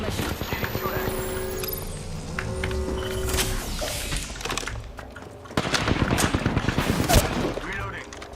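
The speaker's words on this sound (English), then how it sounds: "Getting shot at." Repeated bursts of automatic gunfire in a shooter video game, loud rapid volleys with brief pauses between them, and speech occurring partway through.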